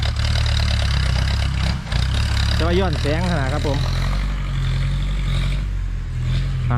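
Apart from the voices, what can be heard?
John Deere tractor engine running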